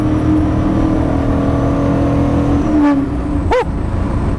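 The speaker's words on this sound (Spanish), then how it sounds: "Ese motor tiene un sonido tremendo." A classic 1960s Maserati sports car engine drones steadily and loudly while driving, its deep revving tone rising briefly near the end, with short whooshing swells of other passing vehicles.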